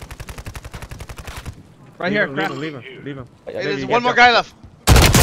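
Gunfire in a video game: a rapid rattling burst of automatic fire at the start, then players talking, and a sudden loud blast of shots at the very end.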